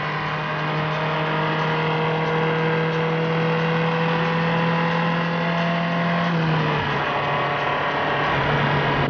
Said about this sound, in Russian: Попробуем максимально сейчас загнаться на четвертой передаче.